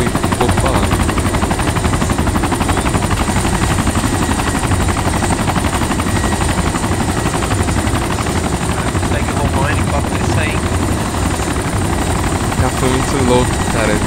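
A helicopter's steady rotor drone in DayZ fills the whole stretch, loud and close, with faint rattling and game effects mixed in.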